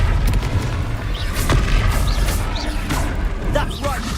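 Confringo fire spell explosions in the video game Hogwarts Legacy produce deep, rumbling booms that blend into a loud, busy battle mix, with voices talking over them throughout.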